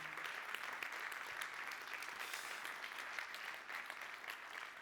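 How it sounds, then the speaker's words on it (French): A conference audience in Nantes applauds the Bâti Actu team at the close of the Energy Meeting, a steady wash of many hands clapping heard from a distance, soft but continuous. "je vais vous demander une autre série d'applaudissements pour toute l'équipe de Bâti Actu"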